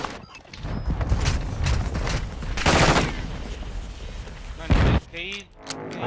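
Bursts of rapid game gunfire crackle amid a busy, noisy mix on the Ashika Island map during a four-player squad match, with a loud boom near the end.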